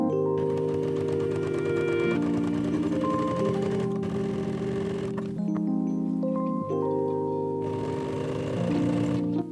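Home sewing machine stitching a fabric strip to the armhole of a tie-front top, a steady mechanical whir running near and continuous with slight shifts in speed and pitch, no voices.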